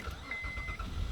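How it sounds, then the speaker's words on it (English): The engine of a 2006 car cranks and catches, settling into a low steady idle, close and moderately loud for about a second with no talking. "Still starts up super easy."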